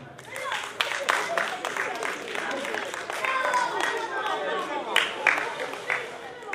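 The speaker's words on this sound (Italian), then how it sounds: "Oh, fate applauso?" A live magic show audience claps in scattered, moderately quiet applause, uneven bursts of hands continuing under a performer's talk.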